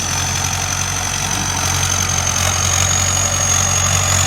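A Ford 6610 Turbo farm tractor engine runs steadily and loud up close, a constant mechanical drone with a high whine on top and no clear surge in speed.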